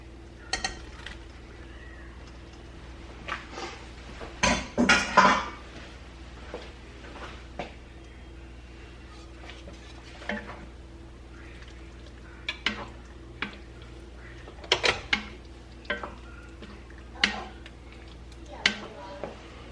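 A spoon stirs gnocchi and sausage through vodka sauce in a pan, giving soft, sporadic scraping and clacking knocks scattered over a quiet background.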